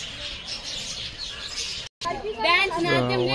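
Small birds chirp while pecking at grain at Bannerghatta Biological Park in Bangalore, their thin high calls mixed with someone speaking throughout before and after a brief gap.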